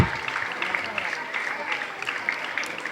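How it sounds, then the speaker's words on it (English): Parents at a school event clap together in steady, dense applause, a bright crackling wash of many hands that carries on evenly throughout. "I request all the parents to give them a big round of applause."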